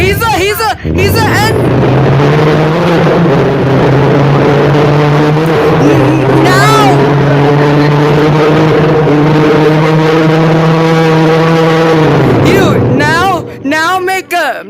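A kid's voice imitates a Formula race car engine, a long sustained buzzing drone that climbs and holds in pitch for several seconds, loud and close, with excited voices briefly around it.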